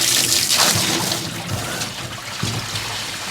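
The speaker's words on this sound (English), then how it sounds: "You want to get water flowing into there right away" Water from a pipe pours and trickles into a steaming propane-heated hot tub, a close, continuous splashing flow with small sloshing bursts.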